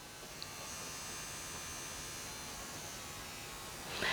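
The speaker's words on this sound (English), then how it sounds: "I'm pressing on the voltage wheel again and turn off our tattoo machine." Dragonhawk tattoo machine running on a Dragonhawk Airfoil permanent makeup power supply, a faint steady electric buzz and hum held throughout, swelling slightly at the end.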